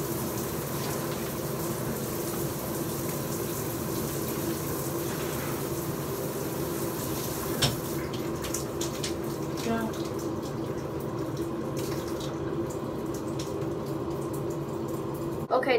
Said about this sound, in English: it's the best way to take a shower